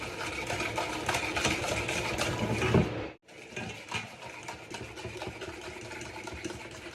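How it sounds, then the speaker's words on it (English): Fork creaming eggless vanilla sponge cake batter in a bowl, a steady rapid scraping and tapping rhythm, close and fairly loud, with a brief pause partway through before the scraping resumes. "instead of using a whisk, I am using my fork only"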